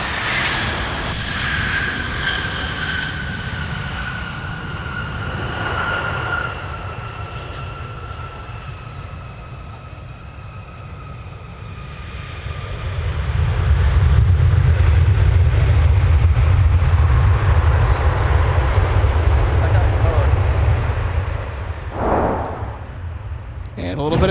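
A Northwest-heritage Delta Boeing 757-300 from LAX lands at Minneapolis–St. Paul airport with a loud, sustained jet roar, whining engine tones sliding downward, then a heavy rumble swelling near touchdown as a voice talks over it.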